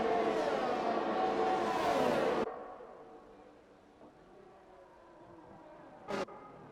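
Formula 1 race cars at Monza in the F1 2021 game: a loud, high engine whine holds close for about two seconds, then cuts off, leaving a faint drone, before another brief sharp engine burst near the end.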